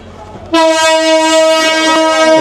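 Saikat Express passenger train sounds a loud, sustained horn at Harbang railway station as it pulls out, the steady harmonic blast starting abruptly and holding close and strong to the end.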